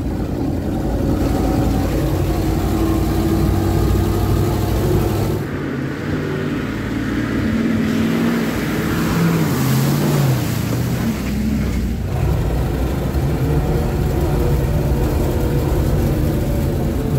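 A GAZ-66 truck drives off-road through a river, its steady engine rumble mixed with a continuous rush and splash of water around the wheels, loud and close throughout with a brief dip in the middle.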